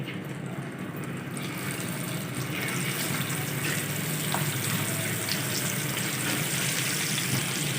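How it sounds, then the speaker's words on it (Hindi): Eggs frying in masala for a dhaba-style anda curry give off a steady, dense, hissing sizzle that holds at an even level from start to finish, with no voices. "अंडों को हम अच्छी तरह से फ्राई कर लेंगे।"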